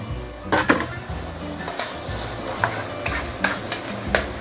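Ginger and garlic frying in a pan for Taiwanese three cups chicken: a steady close sizzle with repeated stirring scrapes and light clinks of a utensil against the pan.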